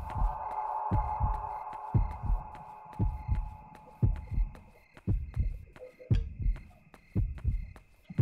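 Steady thumping heartbeat from the horror video game Yomawari: Night Alone, a regular double-pulse throb repeating about once a second over a low sustained drone, loud and close with no talking.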